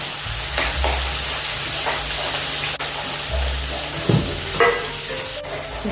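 Cumin seeds, asafoetida and a ground masala paste from the mixer jar fry in hot oil with a constant crackling sizzle, interrupted by a few low thumps and sharp scrapes of stirring.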